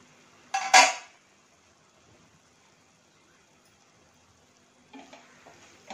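A spoon scrapes and clatters in a pan of masala with peas and paneer, a short loud burst of stirring, then near-silence before softer mixing sounds return.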